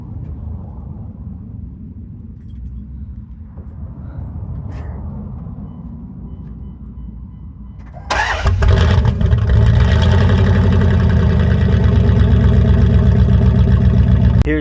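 A 2002 Dodge Ram truck with its stock exhaust idles low at first, then the engine rises sharply to a loud, steady, rumbling run that carries on close by.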